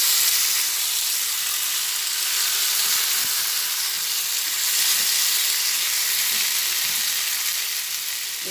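Potol and potato curry with green chillies fries in a pan, giving a loud, steady sizzle and hiss with occasional soft scrapes from stirring, and no talking.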